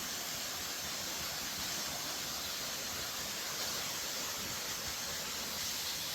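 A waterfall beside an abandoned 1903 mine sends out a steady, broad rushing roar that holds unchanged from start to finish, with no voices.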